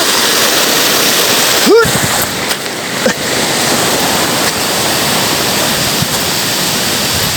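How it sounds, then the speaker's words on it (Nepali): A flooded river rushing close by, a loud, steady broadband roar of water filling the whole stretch, with a brief voice-like sound and a few small knocks on top. "खोलामा चाहिँ अलिक बाढी आएर समस्या भएर छ।"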